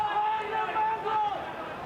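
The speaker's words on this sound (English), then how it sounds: "You can hear the sledges from the crowd." Crowd noise at a 1994 Australian football match between Sydney and St Kilda, a continuous murmur of spectators with a sustained whistle-like tone running through, steady and moderately loud for under two seconds.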